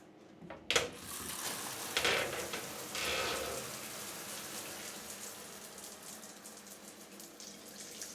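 A shower runs in a bathroom of the Rose and Crown Hotel in Tonbridge, Kent, with a steady hiss of spraying water after a few knocks as it starts, close and continuous with no talk.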